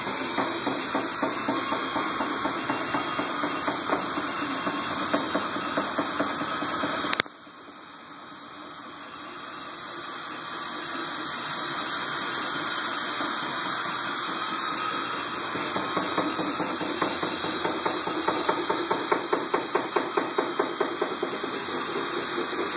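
A battery-operated drill winds a strip of bicycle inner tube around a race gate pole, a steady whirring motor drone with a fluttering rhythm, briefly interrupted partway through and then resuming and running on.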